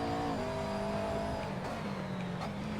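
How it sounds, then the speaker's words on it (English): A GT3 race car engine from the SRS sim racing league drones steadily, the pitch dipping on a downshift early on and then holding a strong, sustained whine as the car pushes on. "The Macker does sound good, even if it is a hard to handle car."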